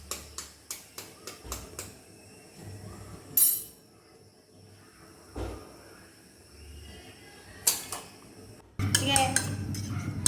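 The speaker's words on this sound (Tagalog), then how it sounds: "Hinahalo na ni Bebe yung para sa torta na itlog." Egg mixture for an eggplant omelette (tortang talong) being beaten in a bowl, with a quick run of rhythmic utensil clicks, then scattered clinks and scrapes and a busier clatter of kitchen sounds near the end, a voice speaking briefly.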